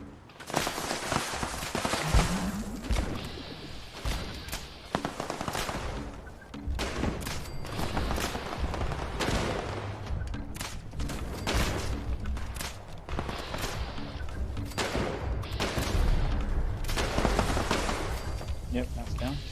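Shotgun fire in the video game Fallout 76 sounds as repeated loud blasts in irregular bursts, with a voice talking over the gunfire.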